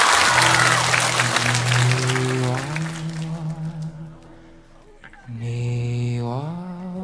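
A studio audience at a Chinese variety show bursts into applause to welcome a singer. The clapping is densest at the start and blends with loud stage music that fades, then returns.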